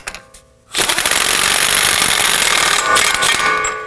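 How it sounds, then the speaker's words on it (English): A pneumatic impact wrench hammers rapidly and loudly for about three seconds, snugging down the front axle nut on a 2018-2024 Toyota Camry. It is close up, comes after a few faint clicks, and no one speaks. "Install the axle nut. Go ahead and snug that down."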